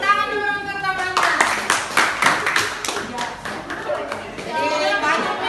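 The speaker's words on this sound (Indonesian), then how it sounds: "Tepuk tangan dulu untuk temannya." Schoolchildren in a classroom clap for a classmate in a short burst of brisk, uneven hand claps, with a teacher's voice and children's chatter heard before and after the clapping.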